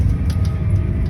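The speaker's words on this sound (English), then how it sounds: "That is how quiet this new Massey Ferguson 8S tractor is" Inside the cab of a Massey Ferguson 8S.205 tractor while ploughing, the engine keeps a steady low drone and rumble, loud and close but smooth, with no speech over it.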